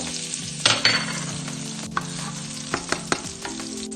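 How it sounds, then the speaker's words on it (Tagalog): Garlic sautéing in a pan gives a steady frying sizzle, with a few louder scrapes and stirring knocks breaking through the hiss; no one speaks. "Manggigisa na naman tayo"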